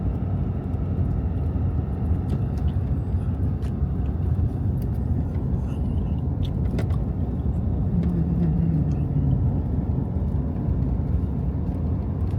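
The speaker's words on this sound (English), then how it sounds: "Driving quite a bit slower right now, doing about 60 kilometers, which equates to about 40 miles an hour." A car travelling at about 60 km/h along the mountainous Alaska Highway, a steady low road and engine rumble with tyre noise, constant and close throughout, no voices.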